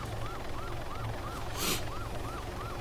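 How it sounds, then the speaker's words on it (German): A police siren in a video game wails in a rapid, repeating rise-and-fall pattern, loud and steady throughout, with a short burst of noise midway over a low rumbling background. "Ja, wir haben eine richtige Sirene an hier."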